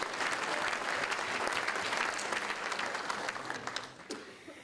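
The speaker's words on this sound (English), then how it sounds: "A big round of applause." Audience at a cultural diversity awards ceremony breaking into loud, steady applause, a thick continuous wash of many hands clapping that begins to thin and fade near the end.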